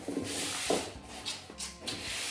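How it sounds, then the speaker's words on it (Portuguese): Repeated rasping strokes of sandpaper on cut wooden slats, close and scratchy, in an uneven back-and-forth rhythm of about five passes. "Estamos lixando todas as ripas aqui que cortamos."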